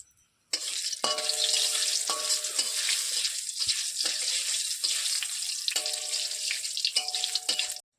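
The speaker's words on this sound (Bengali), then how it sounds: "জিরে দিয়ে দিয়েছি, দিয়ে দেবো তেজপাতা ফোড়ন, দিয়ে দেবো শুকনো লঙ্কা ফোড়ন" Cumin, bay leaf and dried red chilli hit hot oil for a tempering in an okra dish, setting off a loud, steady sizzle after a brief silence, broken by repeated spoon-stirring scrapes.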